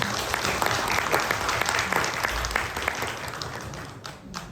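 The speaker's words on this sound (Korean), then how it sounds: "저희 감사의 박수 한번 부탁드리겠습니다" Steady applause from an audience at a film screening event in Korea, many hands clapping densely and evenly, fading slightly near the end.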